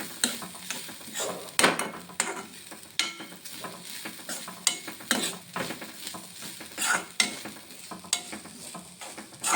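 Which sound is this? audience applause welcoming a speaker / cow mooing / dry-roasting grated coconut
dry-roasting grated coconut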